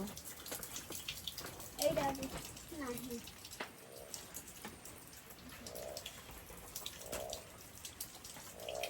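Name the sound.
heavy rain falling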